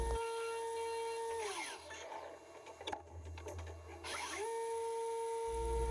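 A Haas VF4 CNC mill drills counterbores in aluminum with a quarter-inch end mill, a steady spindle whine that shifts pitch between cuts, with a rougher middle stretch of cutting chatter and clicks.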